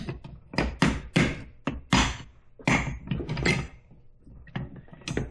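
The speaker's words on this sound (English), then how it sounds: "hitting it with a hammer." A hammer strikes an E-clip on the drive shaft of a 2009 Polaris Ranger in a run of about a dozen sharp, loud metallic knocks, irregularly spaced with brief pauses in between.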